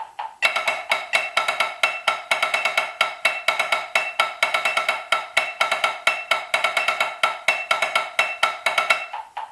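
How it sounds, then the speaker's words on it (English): Solo snare drum running a grid exercise with one beat per sticking grouping repeated four times, a continuous stream of crisp, even, rapid strokes played close and loud from start to finish. "So the last section, or the 1 section, sounds like this."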